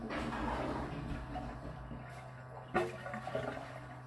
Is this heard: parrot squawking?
no